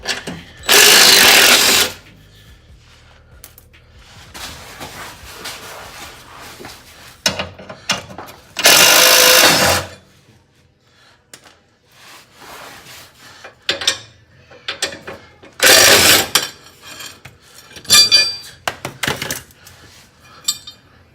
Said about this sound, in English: one of the first things we got to do is pull this brace off